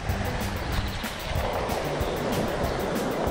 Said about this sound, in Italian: L'acqua della Val di Flores.